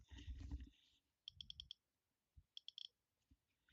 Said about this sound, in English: Click wheel works.